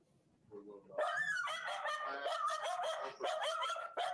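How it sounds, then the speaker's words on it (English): A small dog inside a house with an old kitchen barks and yelps excitedly in a rapid series of sharp, high, close barks. "Just a little dog quit freaking out."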